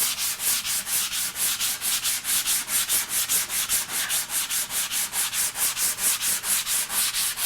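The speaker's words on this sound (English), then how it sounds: "you want to keep sanding until you get rid of all these little rough spots" A sanding block is pushed back and forth along a panel in a steady, even rhythm of raspy strokes, about three per second, close up and continuous with no talking.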